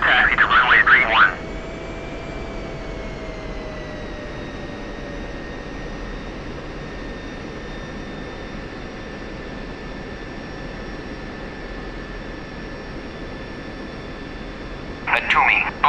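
An F-16C jet engine whines steadily while taxiing in the DCS World flight simulator, a sustained tonal drone between short radio voice transmissions at the start and end.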